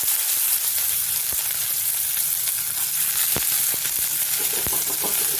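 Small shallots, curry leaves and fenugreek seeds sautéing in hot oil in a pan for Kanyakumari theeyal, heard as a dense, even sizzle with scattered sharp pops throughout, close up and unbroken.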